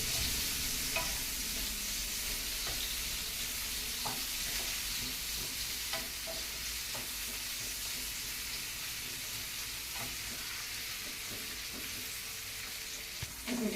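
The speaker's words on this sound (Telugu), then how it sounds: "గోల్డ్ కలర్ వచ్చినంత వరకు ఉల్లిపాయ ముక్కలు వేయించుకోవాలి" Sliced onions frying in hot oil until golden, a dense continuous sizzle with occasional soft clinks and scrapes of stirring, steady and moderately quiet throughout.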